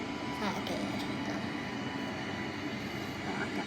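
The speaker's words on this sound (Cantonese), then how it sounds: "我哋海上降落，仲行緊啊！" A seaplane taxis on the water after landing, its engine giving a steady loud drone and broadband rumble throughout, with a person speaking over it.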